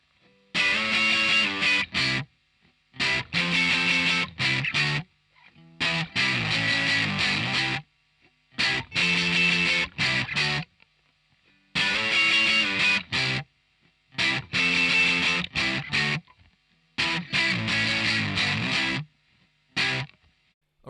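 The verse of a song on heavily distorted electric guitar: loud, chunky bursts of chords in a steady stop-start rhythm, each phrase separated by short silences, with no talking.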